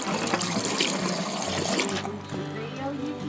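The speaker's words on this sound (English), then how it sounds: "But I am going to pour some into the traps just to be safe." Liquid is poured into the drain traps of an RV sink during winterizing, a steady gushing, splashing flow that runs continuously and close, with a faint lower hum underneath.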